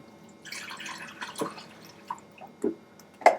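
Water poured from mugs into coffee brewers for a drip-versus-French-press comparison, heard as scattered splashes and sharp drips against near silence, a few louder plops toward the end.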